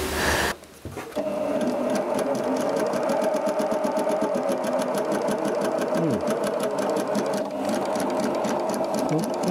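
A SUISEI S955 sewing machine test-sews with a gathering presser foot, its needle mechanism chattering in a fast, steady, loud rhythm for almost the whole stretch after a brief start, close up and alone.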